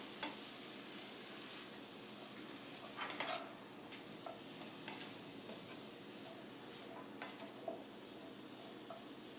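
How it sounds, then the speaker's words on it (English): Oyster mushrooms, chopped onion and garlic stirred in a frying pan, a steady sizzle with occasional utensil scrapes and taps close up. "You want to make sure to stir those ingredients in."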